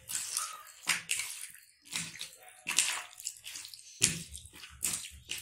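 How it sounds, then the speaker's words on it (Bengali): Chicken is worked by hand with sour yogurt for a Bengali rezala marinade, making wet squelching and squishing bursts in an uneven rhythm, close and fairly soft. "এবার এটাকে ভালো করে মাখিয়ে নেব।"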